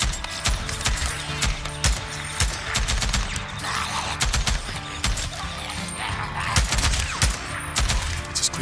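Dense gunfire from the video game Days Gone, rapid bursts and single shots crackling continuously over a busy game soundscape, loud and close throughout.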